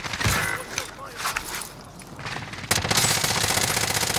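Gunfire in Call of Duty on Rebirth Island, with scattered shots under a talking player, then a sudden dense, loud burst of rapid automatic fire in the last second and a half.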